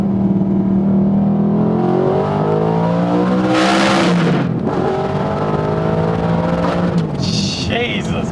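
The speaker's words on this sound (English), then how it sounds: "It's an Audi R8." An Audi R8 engine drives at speed through a tunnel, a loud continuous drone with shifting revs, a brief whooshing surge around the middle and another hiss later as the echoing roar carries on.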